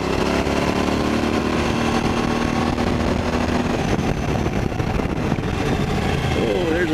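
A 2018 Suzuki V-Strom 1000 motorcycle fitted with a Delkevic slip-on exhaust, its engine note droning steadily throughout, loud and close, with wind rush mixed in.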